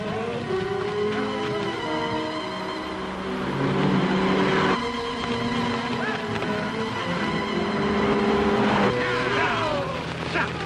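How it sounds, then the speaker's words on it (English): A car engine drones and revs as the vehicle approaches fast, its pitch rising and shifting, with background music and faint voices underneath, in a 1942 Western film. "There's a car. Hear it? It's coming fast."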